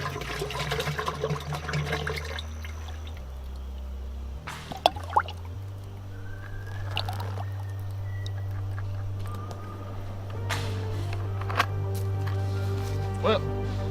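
Liquid poured into a makeshift container, a trickling, dripping flow over a low steady hum, with scattered splashes and a few sharp knocks; someone speaks briefly over it.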